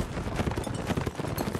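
Horse hooves clop in the Napoleonic Wars video game during a line battle, a steady fast clatter mixed into dense, busy battle noise with bursts throughout.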